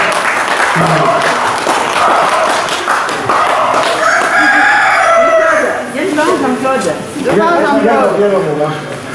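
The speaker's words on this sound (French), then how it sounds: "Vous pouvez l'applaudir." Audience at a mayor's visit applauds a newly introduced guest, with steady clapping mixed with loud voices calling out and talking over it for about nine seconds.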